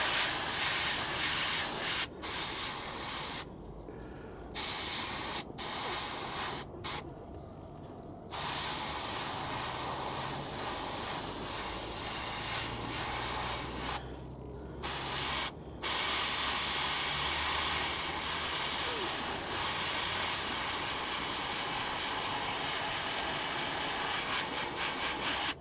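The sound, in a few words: airbrush spraying paint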